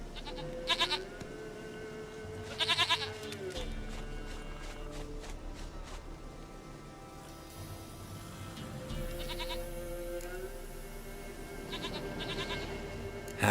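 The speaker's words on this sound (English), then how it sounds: "Goat of mine, dearest, sweetest goat." Goats bleat in the Witcher 3 video game, several loud wavering cries in short bursts, with a long drawn-out bleat near the start and more calls later over a steady low hum and faint footsteps.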